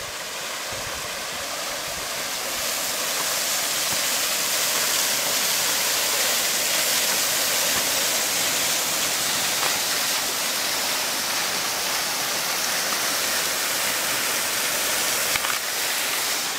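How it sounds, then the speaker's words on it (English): Swift Creek on Mount St. Helens rushes steadily in a loud, even wash of water that holds constant from start to finish with no voices. "This is Swift Creek."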